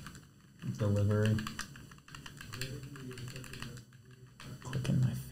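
Rapid clicking on a computer keyboard runs steadily under loud, lively talk and laughter from several people during a game show.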